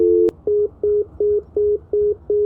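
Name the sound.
phone call hung up, line disconnected tone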